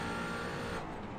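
A McLaren 570S GT4 race car engine in a racing video game, a loud continuous droning whine that holds steady, then eases slightly near the end.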